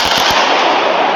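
An explosion during a nighttime military drill with Black Hawk helicopters over downtown Los Angeles: a few sharp thumps, then a loud, sustained broadband roar that fills the whole moment.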